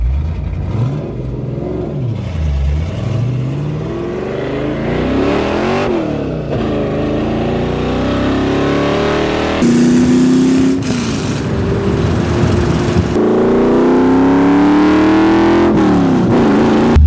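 A Ford Mustang 5.0 V8 with electronic exhaust cutouts wide open revs repeatedly, its loud, throaty rumble rising and falling, climbing to sustained high-rev roars near the end.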